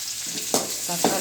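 Tomatoes sautéing in a pan for moong dal sambar, with a steady low sizzle and two short scraping stirs of a spoon against the pan, close and alone.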